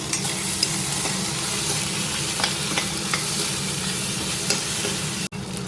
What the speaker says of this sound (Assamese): এতিয়া জলদি জলদি অলপ লৰাই দিওঁ।